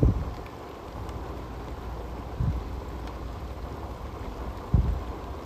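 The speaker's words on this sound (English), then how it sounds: "And we still got another hour of rain" Steady hiss of rain with a dull background rumble and a few low thumps, heard up close.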